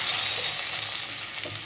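Potatoes fry in a pan with a steady, close hiss of bubbling oil that holds evenly through the short stretch, no voices present.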